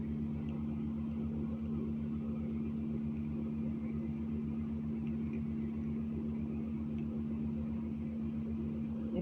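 Sewing machine stitching a double-folded sleeve hem with a buckram strip on a lined umbrella-style suit, a steady close motor hum running unbroken throughout with no talk.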